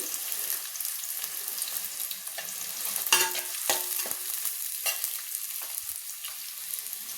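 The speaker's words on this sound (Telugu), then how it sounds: "ఉల్లిపాయలు సన్నగా కట్ చేసుకున్నాను కదా, దోరగా వేయిద్దాము" Thinly sliced onions and green chillies sizzle in a hot pan, a soft continuous crackle broken by a few sharper spatters and scraping stirs, close by with no talking.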